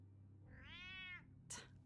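A cat lets out a single drawn-out, whining meow, followed by a short sharp hiss-like burst, heard close but quiet over a low steady background hum.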